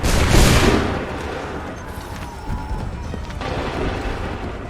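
In Assassin's Creed 3, a musket volley opens with a loud, dense burst of gunfire that rolls off into a fading rumble, followed by scattered cracks and battlefield noise.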